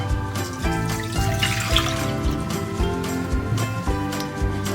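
Water, one and a half cups, pours into a mixing bowl for a Filipino lumpia wrapper batter, a soft continuous trickle beneath steady background music.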